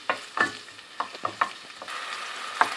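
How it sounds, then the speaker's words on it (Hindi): Chopped onion going into lightly heated oil for a Balti gosht curry, with soft sizzling under a string of sharp stirring clicks and scrapes at close range, no voices. "तेल हल्का सा गर्म हो गया, मैं इसको प्याज को डालूं।"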